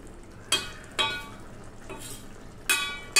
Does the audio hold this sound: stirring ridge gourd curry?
yes